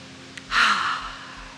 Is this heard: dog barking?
no